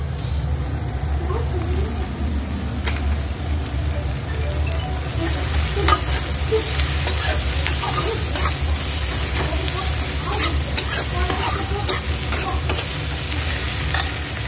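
Onion and finely chopped tomato stirred and fried in a pan, a steady sizzle with repeated scraping and stirring strokes throughout, close and fairly loud with no talk.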